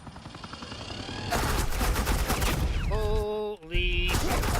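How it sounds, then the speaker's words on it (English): Sustained rapid gunfire from a suppressing-fire burst in Telltale Batman, a dense rattling volley running for several seconds, followed by rising electronic tones and a brief drop-out. "Suppressing fire."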